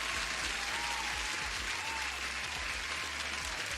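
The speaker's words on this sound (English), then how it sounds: "so you deserve an applause" A burst of crowd applause plays as a sound effect, dense and even clapping at low level, steady for a few seconds with no talk over it.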